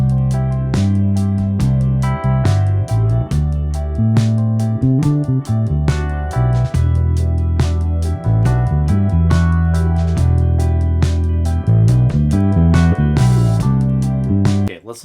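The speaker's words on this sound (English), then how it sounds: "Now here's the amp." Bass guitar run through a saturated, mic'd amp, sitting in a full band mix, with steady low notes rolling continuously under drums and other instruments for the whole stretch.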